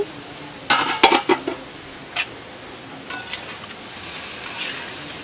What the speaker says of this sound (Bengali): এখন আমি খুব সুন্দরভাবে নেড়ে চেড়ে নিচ্ছি।